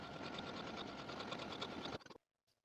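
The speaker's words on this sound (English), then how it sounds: "The very last step is to sew our buttonholes and buttons." A sewing machine stitches buttonholes on a blouse in a quick, steady mechanical whir for about two seconds, then stops with a few faint clicks and near silence.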